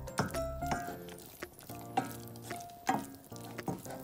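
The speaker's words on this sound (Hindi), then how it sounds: "चिकन को भी अच्छा सा मिक्स कर लें।" Boiled shredded chicken filling is stirred in a hot pan, giving soft sizzling and repeated scraping, squishing strokes in an uneven rhythm, close and fairly quiet.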